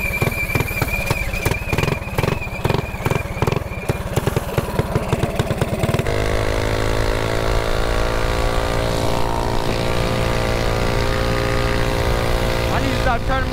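A small mini bike engine with a faulty carburetor buzzes and sputters unevenly out in traffic, its pulsing putter changing pitch partway through under heavy wind noise, with a rider talking over it.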